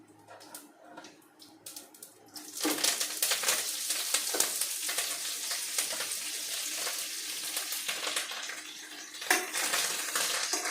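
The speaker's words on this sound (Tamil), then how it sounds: "கடுகு பொரிஞ்சு வந்ததை கொஞ்சம் சீரகம் போட்டுக்கலாம்." Mustard seeds, then cumin, spluttering in hot oil while tempering for a Tamil tomato bajji greens poriyal: dense, continuous crackling and sizzling that jumps louder partway through and carries on steadily, with small pops and clinks, close up.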